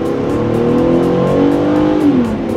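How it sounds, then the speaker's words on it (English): A 2013 Mazda CX-9's normally aspirated engine revs up loudly at high altitude and keeps accelerating, its pitch climbing steadily, close and continuous for the whole stretch. "I'm gonna rev it a little bit too."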